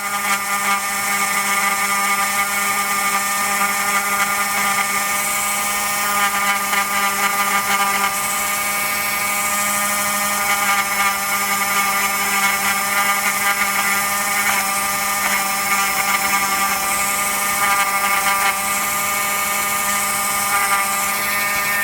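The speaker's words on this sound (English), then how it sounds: "tiny little 1mm grinding doohickey on the Dremel" A Dremel with a tiny 1mm grinding bit scuffs the inside of a model glider's tail boom, a continuous high-pitched whine that holds steady and loud throughout with slight wavering as it cuts.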